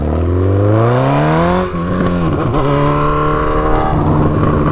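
A Honda CB1000 motorcycle with a straight-pipe exhaust revs up close and loud, its pitch climbing smoothly, dipping briefly, then surging again into a raw, sustained roar.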